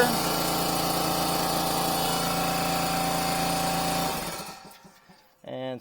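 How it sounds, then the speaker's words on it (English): An air compressor runs in a garage during an oil change and tire rotation on a 2021 Dodge Durango. It is a loud, steady mechanical drone with a faint whine that cuts off after about four seconds, followed by a short sound near the end. "sorry about the compressor noise, just part of the operation"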